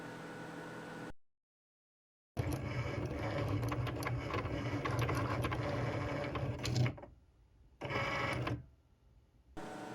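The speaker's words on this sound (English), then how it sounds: "it's going to go ahead and cut and draw our design" A Cricut cutting machine whirs and buzzes steadily as it cuts and draws a design. The motor drops out completely for about a second, resumes, then stops and starts again in short bursts near the end.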